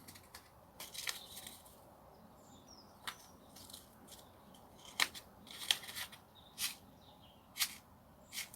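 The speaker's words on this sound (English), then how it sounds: "So we'll just tear this open and see what's what." Paper seed packet of candytuft flower seeds torn open by hand: soft crisp rips and crinkles in a few separate bursts, close and fairly quiet, with no talking.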